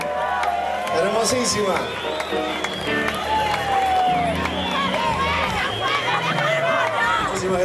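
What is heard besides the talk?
audience applause and cheering for the queen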